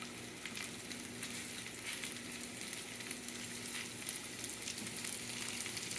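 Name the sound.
salt and pepper shrimp frying in oil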